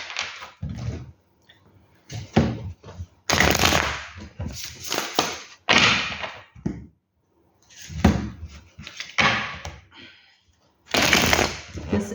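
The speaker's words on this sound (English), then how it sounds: "So these cards fell on the floor, and I would like to shuffle again." Tarot cards are shuffled in bursts of quick riffling and slapping, stopping and starting, close and loud.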